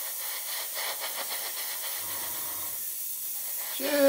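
Spray paint misted very lightly onto a plastic model for a metallic finish, a soft, steady close hiss lasting a few seconds, with a small clatter near the end.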